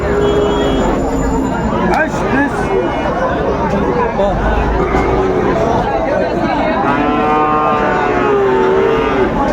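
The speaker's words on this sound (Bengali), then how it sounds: "আমদানি ভরপুর কালারফুল গরুগুলো এ ক্লাসের বাচ্চা" Sahiwal breed calves at a busy cattle market, several moos rising over a dense crowd babble and steady talking, with the loudest bellow near the end.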